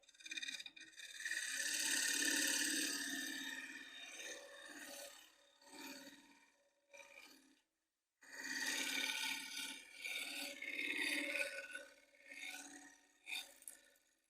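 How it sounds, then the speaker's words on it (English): A large bowl gouge cuts a wooden bowl turned from a piece of firewood, giving long sustained rasping scrapes, close and loud, with a brief pause in the middle before the cutting resumes. "I'm taking my time and just really just easing into the cut"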